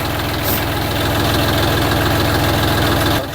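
YTO 244 SX tractor engine idling, a steady loud diesel rumble with a rapid even knocking pulse, close by, running alone without talk.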